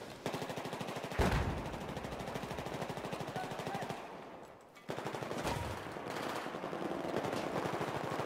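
A light machine gun in Battlefield 4 fires long rapid bursts, loud and close, with a short pause mid-clip before the automatic fire resumes; a faint voice may sit underneath.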